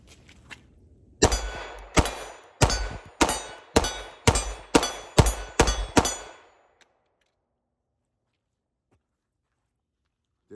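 Nine rapid pistol shots from a Palmetto State Armory Dagger fed by a Glock magazine, each crack followed by the clang of a steel target, in a steady rhythm over about five seconds, then near silence.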